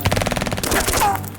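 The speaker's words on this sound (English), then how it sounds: "The thunderous explosion of automatic machine gun fire shook the ground and echoed throughout the deserted alleyway." Automatic machine gun fire as an audiobook effect for a deserted alleyway: a close, loud rapid burst of repeated shots that gives way after about half a second to a rumbling, echoing blast that lingers.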